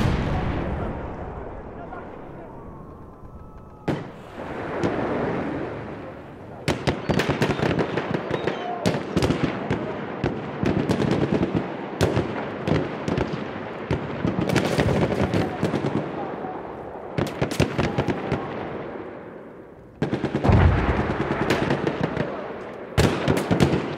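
Artillery fire in the Battlefield V video game, loud repeated booming blasts and crackling bursts that come in dense waves across the whole stretch, close and heavy, with brief lulls between volleys.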